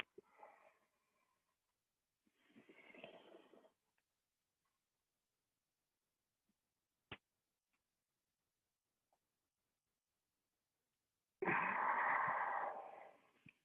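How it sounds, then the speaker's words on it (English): Slow, deep yoga breaths are drawn in and let out at close range: a few airy, wheezy inhales and exhales separated by long silences, with the last breath the loudest and longest. "breathing deeply and fully"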